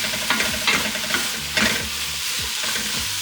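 Butternut squash and sausage sizzle in a pan while a spoon stirs and scrapes through them in quick, uneven strokes, loud and close, with no talking.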